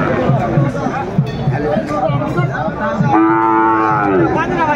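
Cattle at a busy livestock market, including a Sahiwal bull calf, give a loud, drawn-out moo near the end, following a stretch of rhythmic thumping and the babble of a crowd and someone talking nearby.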